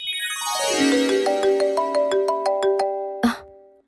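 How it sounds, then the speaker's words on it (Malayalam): A mobile phone ringtone plays nearby: a bright, repeating melodic chime of stepped notes that rings clearly, then cuts off with a short burst of noise. "ആര്യസാറിന്റെ ഫോൺ"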